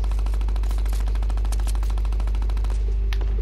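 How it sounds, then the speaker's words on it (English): Video game gunfire in a match with sniping: a rapid, evenly spaced burst of loud shots over a constant low hum, cutting off near the end and followed by one last sharp crack. "Oh, we're still getting sniped at"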